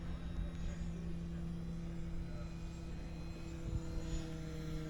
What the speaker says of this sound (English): I love airplanes.